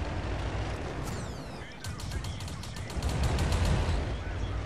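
World of Tanks battle gunfire: a run of rapid, evenly spaced cracking shots fires in a burst near the middle and continues to the end, over a steady low engine rumble with some talk.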